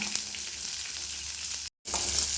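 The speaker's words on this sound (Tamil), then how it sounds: "இந்த பூண்டு வெங்காயம் எல்லாம் நமக்கு பாதி அளவுக்கு நல்லா வதங்கணும் இந்த எண்ணெயிலேயே" Garlic, onion and green chili sautéing in oil for a chutney, a steady close hiss and crackle with a brief dropout partway before the sizzle resumes.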